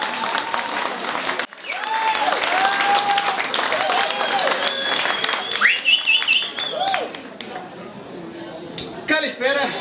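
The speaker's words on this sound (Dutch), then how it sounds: "En daar wil ik graag een applaus voor," An audience applauds in a concert hall at a rebetika benefit concert, a broad wash of clapping overlaid by talk and some whistling or whooping, swelling and fading across the moment.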